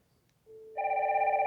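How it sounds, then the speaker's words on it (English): Wildix WP410 desk phone ringing for an incoming call: a faint single tone steps up into a bright, steady electronic ringtone that continues to the end, with no talking. "if we have an incoming call and it's ringing"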